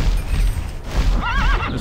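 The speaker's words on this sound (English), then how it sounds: "This fucking horse is fast," A horse in the online role-playing game TERA gives a loud, close whinny with a wavering, trembling pitch near the end, over a dense rumbling game background of hooves and wind.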